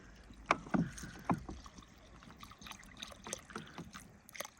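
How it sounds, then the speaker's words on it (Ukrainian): Water pours and splashes in short bursts over rice in a cauldron, followed by soft trickling and light clinking at a moderate distance. "і заливаємо усе водою"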